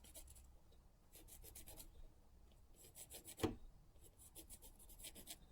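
A pencil draws a line across a piece of wood being prepared for a Christmas Santa carving, with several short scratchy strokes in bursts, quiet and close, and one sharper scrape midway.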